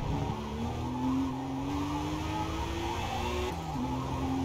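A Ford GT in Forza Motorsport under braking, tires squealing in rising, wavering tones over a continuous engine roar, loud and close with a brief break near the end.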